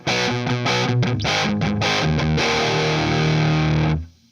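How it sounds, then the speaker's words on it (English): An electric guitar's humbucker pickup through an amplifier's distortion channel plays a few heavily distorted chords, then rings out on a sustained note before being cut off abruptly near the end. "obviously you know what a humbucker is going to sound like through the distortion channel"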